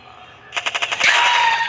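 Rapid automatic gunfire in the online game Roblox, a quick burst of about five shots followed by a louder blast and sustained noisy ring, close and loud.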